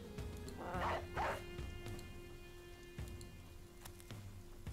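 In the video game Battle Brothers, a dog is released and barks twice in quick succession, followed by fainter game effects under steady ambient rain and a hum.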